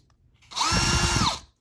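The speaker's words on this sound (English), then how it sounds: "First thing we're going to do is clean out these holes with a 5/64 bit" A drill fitted with a 5/64 bit whines up for about a second as it cleans out holes in a 1/64 scale truck model part, a short, close, steady high buzz between quiet moments.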